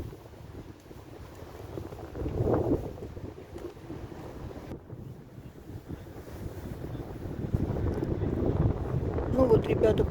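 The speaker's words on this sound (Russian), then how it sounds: "Ого, ветер какой." Strong, gusty wind buffets the microphone outdoors by a residential complex under construction, rumbling in surges that swell louder toward the end, with someone speaking briefly underneath.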